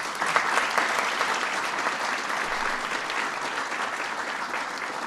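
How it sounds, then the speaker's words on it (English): Sustained applause from the guests at a Ramadan dinner hosted by the President, a dense, even clatter of many hands continuing steadily throughout. "Please give them a big round of applause."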